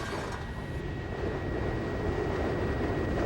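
Steady, loud engine drone of an airplane cruising at about 3,600 metres with skydivers aboard, a broad continuous roar filling the cabin with no break, no voices heard.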